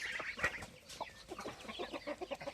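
A silver laced Wyandotte hen clucks on a farm, a close run of short, soft clucks and murmurs with one sharper squawk early on, alone without talk.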